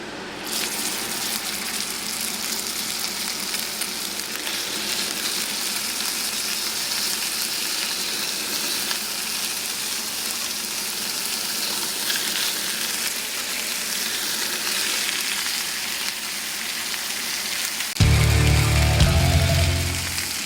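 Salted steaks sizzling in a frying pan, a loud, steady hiss of frying fat that holds throughout, with a sharper crackling surge near the end.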